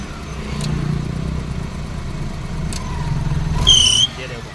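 A Maruti Omni van's worn fan belt lets out one sharp, high-pitched squeal over the low rumble of the idling engine, with someone talking near the start.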